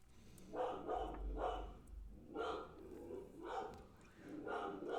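A dog barks indoors in a series of about six or seven sharp barks in uneven bursts, fairly close and moderately loud, with no other sound competing.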